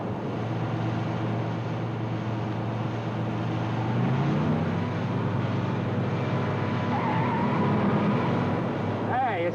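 A car in a game of chicken drives head-on toward another, its engine drone rising in pitch midway as it closes in, with voices heard over the motor.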